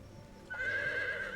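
A horse in a video game lets out a single loud, close neigh that rises sharply and holds as a bright whinny, with faint background noise and no speech.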